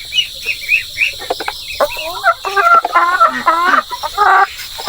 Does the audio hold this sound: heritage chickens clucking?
yes